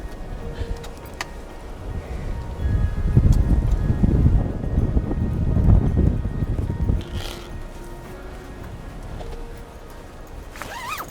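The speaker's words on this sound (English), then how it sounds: "The wind is so strong that the entire tent is shaking and quivering." Strong wind at a campsite buffets a tent, rising to a rough, loud rumble in the middle and easing again, with flapping and rustling fabric.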